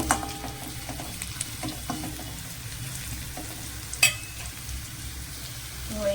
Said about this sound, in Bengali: রসুনটা কিন্তু একটু লাল লাল করে ভাজবো